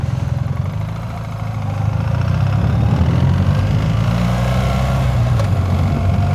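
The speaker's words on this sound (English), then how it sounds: "Going back to first gear." A 2025 BMW R 1300 GS Adventure motorcycle riding on a road in Dubai, its engine a steady low drone that drops and then swells as it shifts down to first gear, loud and close with wind noise and no talking.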